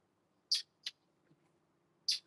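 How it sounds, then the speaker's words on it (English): Birds calling in a garden, set beneath an ackee tree: three short, sharp chirps, two close together and a third after a pause, sounding fairly near against otherwise quiet surroundings. "enjoying the chirping of the birds"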